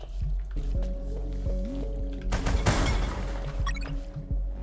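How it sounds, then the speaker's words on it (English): A severed arm dips into water with wet squishing and dripping sounds, close and fairly quiet, then a louder sloshing splash in the middle, set against a low steady hum and a few faint tonal blips. "I dipped the severed arm in the water to calculate the depth"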